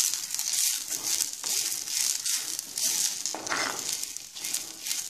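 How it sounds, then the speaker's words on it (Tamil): Drumstick leaves fry in a pan with lentils, giving a steady, close sizzle with crackling and rustling stirring throughout, fairly loud and alone. "இந்த பருப்போடவே சேர்த்து வறுத்துக்கலாம்."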